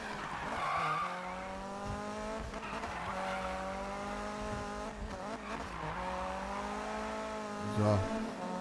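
Race car in Need for Speed accelerating hard on nitro, a sustained high engine whine with rising and falling pitch sweeps and tire skid, loud and close, with a voice talking over it.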